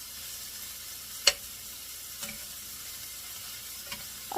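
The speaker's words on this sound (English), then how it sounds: "Now I'm going to fry up the onions." Onions fry in a little olive oil in a pan, giving a steady soft hiss of sizzling with a few sharp pops and ticks from utensils, no speech.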